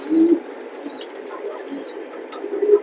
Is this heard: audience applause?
no